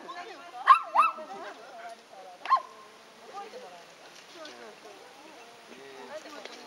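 A dog gives a few sharp barks and yips, close by, with people talking over and between them.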